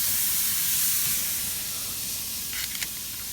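Bacon-wrapped zucchini sizzles loudly on a grill as a dense, steady hiss. The hiss eases a little toward the end, where a few brief clicks break through, and no one speaks.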